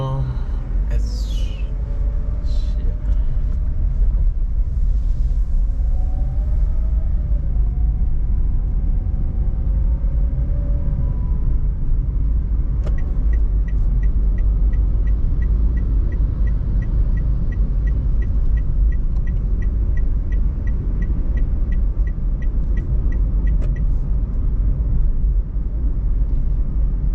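Car cruising through Batam city streets, a steady low interior road rumble throughout, with a person talking over it and faint passing traffic and brief higher tones in the background.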